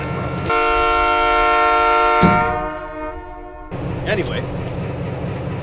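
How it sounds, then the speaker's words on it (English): Whistle of a GMD-1 diesel locomotive: one long steady blast of several seconds, loud and close, cutting off abruptly over engine rumble, then idling noise with someone talking. "I don't know where that whistle's coming from."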